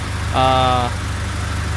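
A car engine idling after a Big 3 electrical upgrade, giving a steady low hum throughout. A brief tonal whine rises over it for about half a second near the start.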